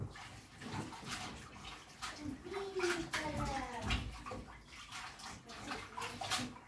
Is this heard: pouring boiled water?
yes